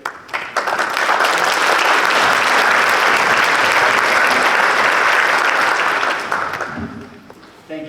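Audience applause at a Hawaii wildfire summit fills a large hall, a loud, dense wash of clapping that swells within the first second, holds steady for several seconds, then fades out near the end.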